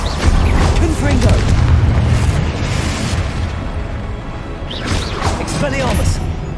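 Booming blasts from a Confringo spell in the Hogwarts Legacy video game, loud and rumbling through most of the stretch, with a voice calling out spell names over the explosions.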